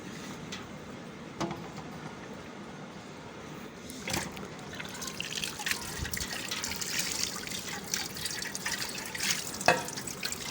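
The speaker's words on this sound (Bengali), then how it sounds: "লাস্টবার আরেকটু পানি দিয়ে ধুয়ে বাটিতে উঠায় নিব" Water splashes and trickles as free-range rooster meat is rinsed and rubbed by hand in a bowl, with intermittent sloshing and drips up close.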